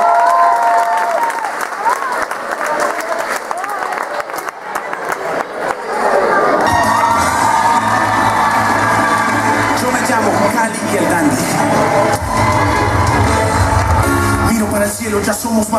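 A talent-show audience breaks into loud applause and cheering, dense clapping swelling after an announcer's voice and holding strong to the end.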